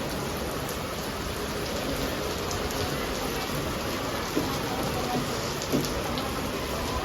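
Heavy monsoon rain drums on surfaces in a constant hiss with scattered splashy drop hits, a voice faintly present beneath it.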